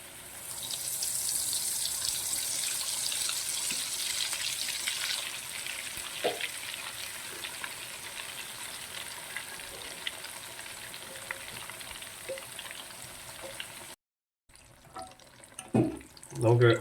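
Beef cutlets fry in hot oil over a medium flame, giving a steady, dense sizzle that holds for most of the stretch. It cuts off abruptly, and a few close clinks and knocks of utensils follow.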